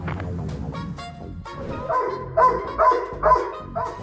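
A dog barks several times in a short rhythmic burst, loud and close, after some softer yips and whimpering sounds at the start.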